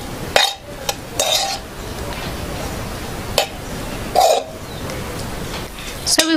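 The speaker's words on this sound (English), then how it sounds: "We're going to mix the butter into the broccoli." Melted butter being mixed into steamed broccoli with a utensil, giving a few scattered clinks and scrapes against a dish over a steady background hiss.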